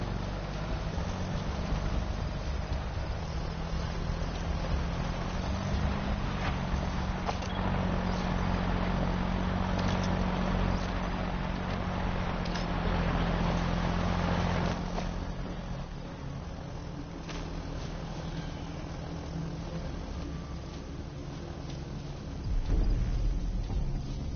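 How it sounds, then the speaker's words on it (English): Steady vehicle engine rumble from a car idling nearby in Metal Gear Solid V: The Phantom Pain, a continuous low drone with faint wind-like hiss layered over it, no speech. "And there's a car nearby too."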